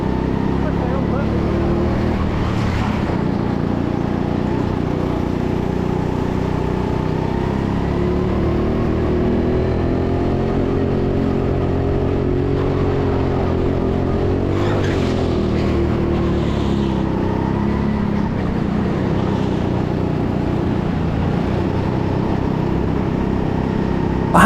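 Indoor go-kart engines whine continuously at a TeamSport track in Sheffield during a 50-lap race, a close droning engine note rising and falling with throttle, with brief bursts of other karts passing.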